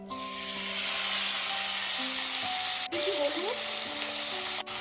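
Onion, green chilli and ginger paste fry in hot oil with a steady, continuous sizzle, close and fairly loud, with a few faint utensil scrapes near the middle and tonal background hum.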